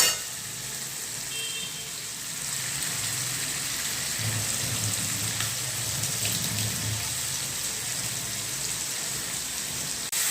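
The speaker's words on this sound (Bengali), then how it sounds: "মশলাটা ভালো করে কষে নিচ্ছি" Spice masala with onion, turmeric and salt fries in fish oil in a pan for fish kalia, giving a steady close hiss and crackle with a faint stirring rumble partway through.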